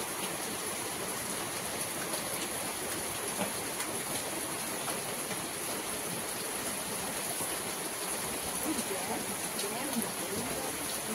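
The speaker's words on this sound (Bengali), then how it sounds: "আজ বাইরে খুব জোরে বর্ষা হচ্ছে, তো আমার কথার আওয়াজের থেকে বর্ষার আওয়াজটা বেশি শোনা যাচ্ছে।" Heavy rain pours steadily outside, a dense, continuous hiss and patter filling the space at an even level with no breaks throughout.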